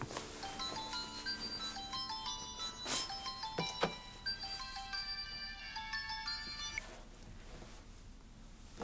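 Phone ringtone in a Korean TV drama, a bright, repeating melodic chime of clear tones playing for several seconds at moderate volume, with a brief clatter partway through and no talking.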